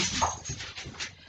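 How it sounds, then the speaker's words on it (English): A big dog moves around in a nearby room, giving soft whimpering huffs and snuffles at a low, muffled level, with faint padding sounds between them. "if you hear noises in the background, like pitter-patter and random just huffings. It's the big puppy."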